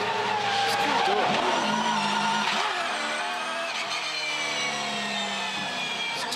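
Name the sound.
V8 Supercar race car skidding with oversteer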